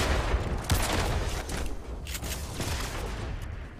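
Rapid gunfire from a first-person shooter match rings out in a dense burst of repeated shots, loud and close, with a few sharper cracks standing out over a steady rumble of game noise.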